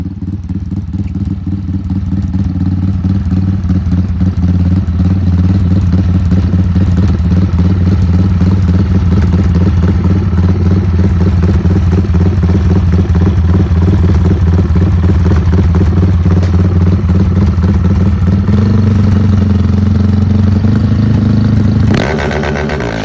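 A fast ATV engine roars loud and close without letup, a steady buzzing drone with rattling clatter that shifts pitch slightly near the end, no talk.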